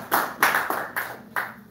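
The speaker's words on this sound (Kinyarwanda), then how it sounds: "Gusa amashyi y'amasabano buriya aremera." Hand-clapping applause from an audience at a Rwandan HIV-prevention community event, with four separate bursts of claps spaced evenly and each fading out quickly.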